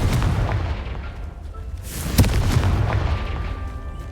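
A Confringo fire spell in Hogwarts Legacy bursts with one sharp, loud blast in the middle, set against constant booming combat rumble and spell effects.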